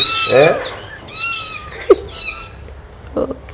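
A human voice imitates a cat, giving a few drawn-out meow-like cries with short pauses between them.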